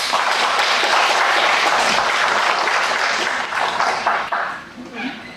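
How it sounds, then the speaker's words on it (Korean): Dense, sustained applause from an audience at a symposium marking the first anniversary of a modern-history memorial hall, welcoming a district mayor; the clapping stays loud and steady, then thins toward the end. "큰 박수로 맞이해주시기"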